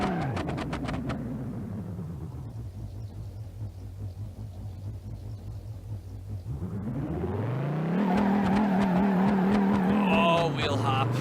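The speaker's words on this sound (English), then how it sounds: "Oh, wheel hop." A car in BeamNG.drive stutters through rapid juddering wheel hop at launch, then its engine drones low and steady before revving up loudly with a rising whine. Voices can be heard faintly in the background.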